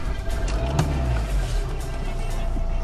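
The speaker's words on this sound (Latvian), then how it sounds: "viņš rūc kā dīzelīts un diezgan tā smalki un labi" A 2006 Chrysler Voyager with a common-rail CRD diesel engine idles with a continuous, fairly loud low rumble and faint clatter, heard close and steady throughout.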